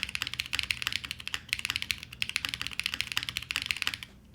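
Rapid, steady typing on a QK75N mechanical keyboard, crisp clacky keystrokes in quick bursts with brief pauses, close and fairly loud, with deeper thocks mixed in.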